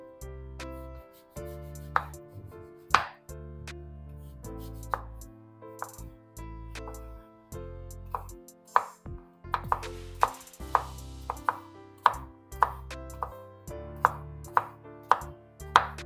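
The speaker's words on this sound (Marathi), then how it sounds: "आता कैरीचे आपण असे मीडियम साईजचे तुकडे करून घेऊया।" Knife chopping a raw Totapuri mango into medium pieces on a board, a steady series of sharp, close cuts, irregular at first and then quickening, with soft music playing underneath.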